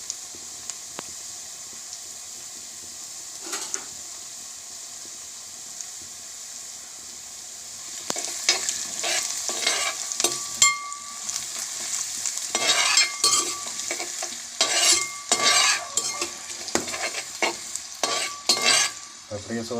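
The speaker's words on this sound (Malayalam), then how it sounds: "നമ്മളിട്ട ഇഞ്ചി വെളുത്തുള്ളിയൊക്കെ നന്നായിട്ട് വഴന്നു വരുന്നുണ്ട്" Ginger and garlic sauté in a pan for beef curry, a steady sizzle that starts low, then grows louder and busier, with repeated scraping stir strokes punctuating it.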